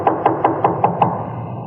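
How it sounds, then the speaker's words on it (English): Knocking on a door in a 1950s radio crime drama: six evenly spaced raps in a steady rhythm, fairly close and clear, with no voices over them. "Let him knock again."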